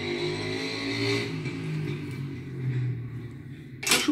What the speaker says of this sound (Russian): Мопеды, мотоциклы